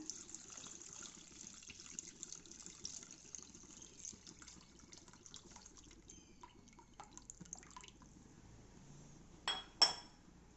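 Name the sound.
water being poured into a pot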